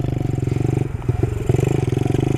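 A Honda Trail 90 motorcycle engine chugs with a steady low throttled pulse while riding off-road, dipping briefly mid-way with clatter as the rider downshifts before settling back into its rhythmic idle-like beat.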